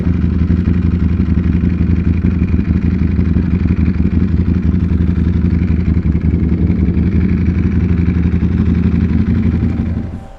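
A Ducati Panigale V4 motorcycle ridden by someone without gloves, its engine a loud, steady, close drone with a constant low rumble for about ten seconds, cutting off at the end.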